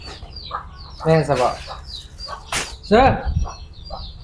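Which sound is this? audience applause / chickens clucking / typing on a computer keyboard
chickens clucking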